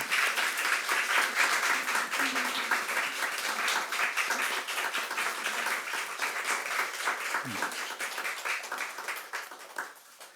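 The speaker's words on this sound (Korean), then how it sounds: "우리 함께 크게 우리 격려와 축하의 박수를 하시겠습니다." Congregation applause at a church pastor installation and ordination service, sustained, even clapping from many hands that gradually thins and fades out near the end.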